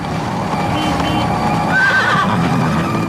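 A horse whinnies amid outdoor ambience, its drawn-out neigh rising clearly in the middle of a steady background rumble, with no talk.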